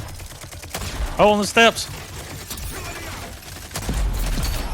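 Gunfire in the video game Rogue Company crackles in the background while a player talks over it, with a louder burst of rapid shots partway through and muffled combat noise throughout.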